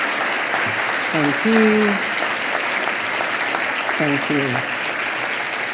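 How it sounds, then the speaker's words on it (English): An audience applauds steadily at a hypnosis session while a voice speaks briefly over the clapping, the applause holding a broad, even wash throughout. "just give yourself a massive round of applause for doing that"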